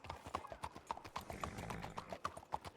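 Horse hooves in a roleplay video game, a quick steady clip-clop of many hoof strikes, moderately loud and continuous throughout.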